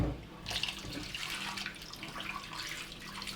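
Tomatoes rinsed under a running kitchen tap, a steady splashing water stream with shifting gurgles, close but fairly quiet, no voices.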